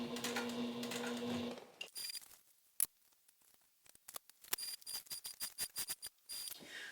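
Sewing machine top stitching slowly around the metal D-ring hardware of a Sallie Tomato Jessica bag, heard as a steady whir at first, then after a pause a series of short, separate stitching bursts and clicks, close and fairly quiet.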